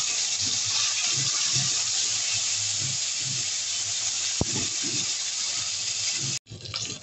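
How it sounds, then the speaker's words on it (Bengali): Puti fish fry in hot mustard oil in a pan, a loud steady hissing sizzle with a brief sharp knock and a sudden dip near the end. "এবার আমি পুঁটি মাছগুলোকে ভেজে নেব।"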